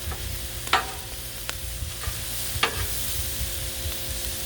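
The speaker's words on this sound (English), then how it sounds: "The hamburger's cooking a lot faster than the taters did." Hamburger meat frying on a Blackstone flat-top griddle beside diced potatoes, a quiet steady sizzle broken by a few sharp metal spatula scrapes and taps.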